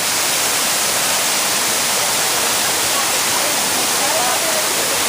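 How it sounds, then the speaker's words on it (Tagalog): Steady, dense rush of falling water from a man-made waterfall at a resort pool, close and loud, continuous throughout with no clear breaks. "Napakaganda ng falls. Man-made."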